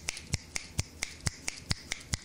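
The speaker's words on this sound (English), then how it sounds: "You're getting some finger snaps on that one" Finger snaps, about ten crisp, evenly spaced clicks in a steady rhythm, close and clear with nothing else heard.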